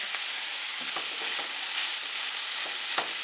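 Food sizzles in a hot skillet with a steady, close, bright hiss. A few faint stirring scrapes sit on top, and no one speaks.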